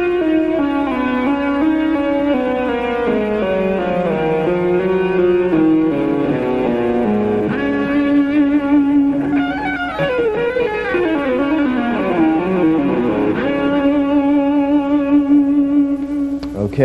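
A two-handed tapping lick on electric guitar runs fast, ringing legato notes that climb and descend in quick cascades, with a sustained held tone toward the end, played solo and clear with no talking.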